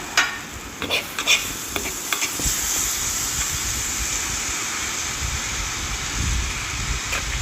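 Cabbage thoran with green chillies is tossed in an oily pan, a crisp spatula scraping and clattering over a dense, continuous sizzle that settles into a steady hiss, close and loud.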